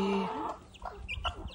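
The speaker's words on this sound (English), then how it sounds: "Like, full-grown chickens now." Soft clucking from chickens close by, a few short throaty clucks and murmurs over quiet background, with a brief higher squawk at the start.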